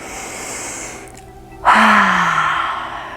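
A deep breath is let out through the mouth during a yoga session with a child, a quiet intake followed by a sudden loud, breathy exhale that trails off slowly.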